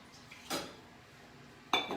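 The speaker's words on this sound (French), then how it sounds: "Là, j'ai une petite casserole." A small saucepan is handled in a home kitchen while preparing a rustic rhubarb tart, giving two short metallic clanks about a second apart, close and fairly loud against a quiet room.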